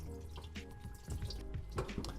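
Water drips from a loosened P-trap into a bucket under a sink, giving faint, irregular small splashes and trickles, quiet and close.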